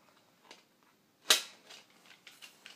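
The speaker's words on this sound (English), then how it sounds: "Alright, let me just reload this Boomco pistol." A Boomco toy pistol being reloaded gives one sharp, loud plastic snap, followed by softer clicks and handling rattles, close up, with no talking.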